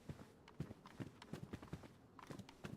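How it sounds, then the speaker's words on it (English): Footsteps in the video game DayZ, with a quick, even series of hard, clopping thuds and scuffs, close and fairly faint. "Definitely heard some other kind of footsteps somewhere."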